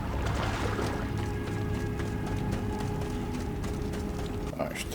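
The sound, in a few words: horse swimming in video game Assassin's Creed Odyssey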